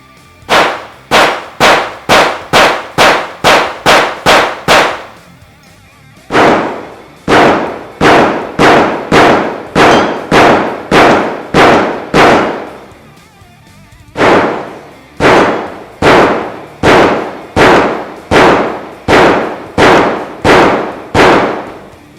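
Glock 44 .22LR pistol fires about twenty sharp, evenly spaced shots in three quick strings separated by brief pauses, each crack loud and close.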